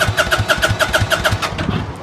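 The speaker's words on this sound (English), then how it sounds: "Let's fire up." A Kawasaki VN900 motorcycle engine starts with a rapid rhythmic cranking and firing pulse, loud and close, settling toward a lumpy idle.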